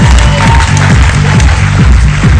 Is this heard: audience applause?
yes